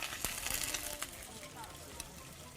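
Tilapia fries in a pan, giving a faint, steady sizzle with scattered crackles and pops, heard alone without talking.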